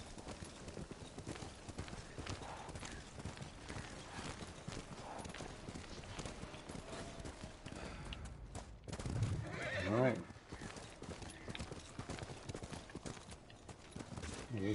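Hooves clip-clop steadily as a horse walks through the woods in Ghost of Tsushima, with occasional neighs and whinnies over the rhythmic footfalls and a speaking voice.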